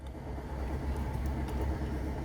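A car engine idling steadily during diagnostic testing in an open-loop fuel condition, a constant mid-low hum and rumble close by with no speech over it.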